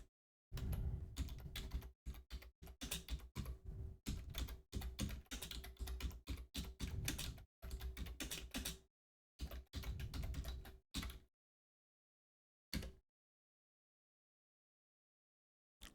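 Typing on a computer keyboard comes in close, crisp bursts of rapid clicking with short pauses, then trails off into silence with a few isolated keystrokes near the end.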